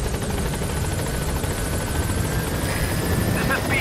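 Pequod helicopter from Metal Gear Solid V arriving at a landing zone: loud, steady rotor thrum and engine roar, constant and close throughout.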